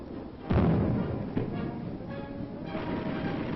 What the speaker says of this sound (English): Next, the visitors watch demonstration firing. Recoilless rifles give the infantry artillery firepower.